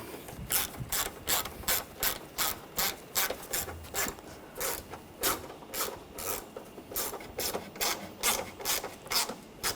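A hand ratchet tightens the ignition coil bolts on a 2013–2019 Ford Escape with rapid, crisp metallic clicking. The strokes come in steady repeated bursts up close, with no talking.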